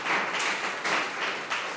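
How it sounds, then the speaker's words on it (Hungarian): Audience applause at the end of a museum evening lecture on the everyday life of János Kádár: steady, moderate clapping from a crowd, swelling slightly in waves and continuing without a break. "egy tapsot szerintem megérdemel."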